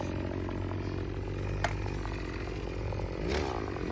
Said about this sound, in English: angle the trimmer and the string directly in between the sidewalk and the grass